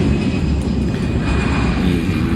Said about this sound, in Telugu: ఫ్లైట్ వస్తుంది ఫ్లైట్ టేక్ ఆఫ్ అవుతుంది